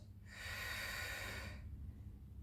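A single long, breathy exhale through the mouth or nose during a beginner Pilates mat lift, close and soft, lasting just over a second with no talking over it.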